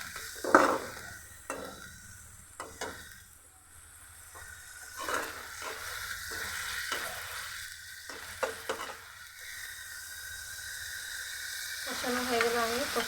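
Spices and dried gokul fish sautéing in a pan with a splash of water, a quieter steamy sizzle under repeated stirring and scraping strokes, with a voice talking faintly at times.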